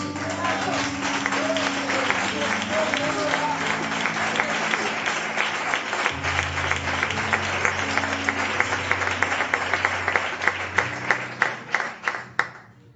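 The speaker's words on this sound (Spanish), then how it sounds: "Dale un fuerte aplauso." A church congregation applauds loudly after a sermon, a dense wash of clapping lasting throughout that thins into a few separate, sharper claps at the end, with organ or keyboard tones sustained underneath.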